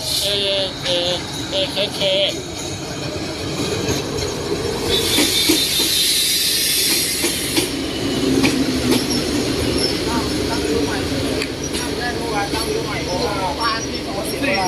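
An ordinary Thai passenger train, hauled by locomotive 4214 with four coaches and a baggage car, rolls into a station platform near Bangkok. Continuous rumbling and rattling wheels with brief squeals, with someone talking over it.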